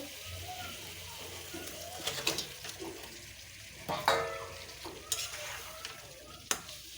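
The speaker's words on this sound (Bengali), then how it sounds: "তো মশলাটা কষানো হয়ে গেছে এখন আমি মুরগির গোস্তগুলো দিয়ে দিব" Chicken pieces go into a pan of sizzling spice masala and are stirred, giving a steady fry with sharp scraping and clattering strokes of the spoon against the pan every second or so.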